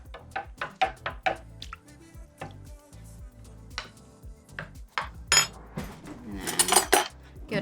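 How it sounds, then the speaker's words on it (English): A spoon clinks and scrapes around a container of passionfruit kombucha, irregular stirring strokes with sloshing liquid and sharp metallic knocks against the sides, close and fairly loud. "So go ahead and just stir the mix."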